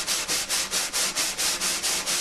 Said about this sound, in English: The how is the flat part of the brush plays on the flat part of the snare.